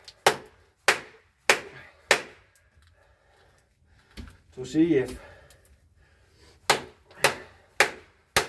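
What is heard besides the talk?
hammering on a Halfbreed LSK-02 knife blade to split a wood knot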